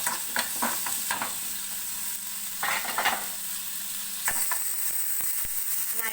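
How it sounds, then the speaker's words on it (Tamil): Ingredients for a green moong dal khichdi frying in oil in a pan, a steady sizzle broken by repeated scraping stirs of a spoon against the pan. "இப்போ இது நல்லா ஃப்ரை பண்ணிக்கிறேன்."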